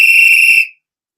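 One shrill, loud whistle blast sounds for more than half a second, then cuts off into silence.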